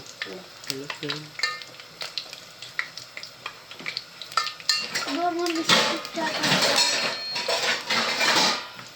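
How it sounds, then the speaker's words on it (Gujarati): Samosas half-frying in hot oil, a bubbling sizzle that swells in the second half, mixed with clinks of a utensil against the pan and intermittent talk throughout. "ખાલી હાફ ફ્રાય કરીને મૂકી દેવાનું છે"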